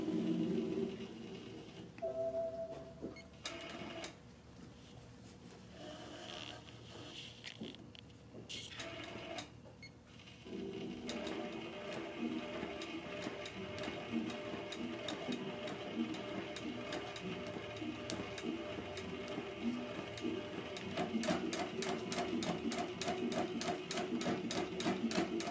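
An Innova longarm quilting machine in embroidery mode stitches down an appliqué on a monogram pillow, a rapid mechanical chatter that starts quietly after a few scattered clicks, then settles into steady fast needle strokes that run on alone without voices.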